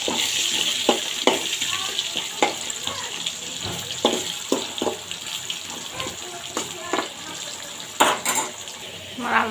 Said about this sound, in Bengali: এই তেলের মধ্যে আবার আলুগুলো ভাজতে দেখো